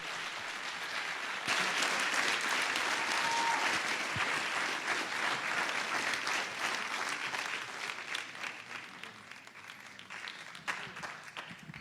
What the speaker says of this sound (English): And a round of applause for my pianist,